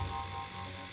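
An electric nail drill fitted with a coarse bit runs in a steady, close, faint electric whine with a low motor hum, heard alone with no talking.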